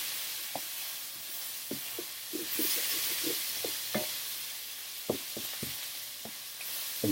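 Garlic sizzles steadily in olive oil in a pan, a close, continuous frying hiss broken by sharp clicks and knocks of stirring, with no voices.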